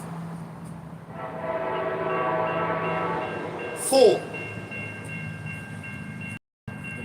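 A train rumbles past on a street in Garner, North Carolina, with a steady tonal drone building for several seconds, then a short loud burst. Voices are heard faintly around it.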